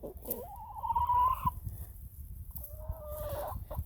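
Chickens cluck and call close by, with a couple of drawn-out, rising squawks separated by quieter moments.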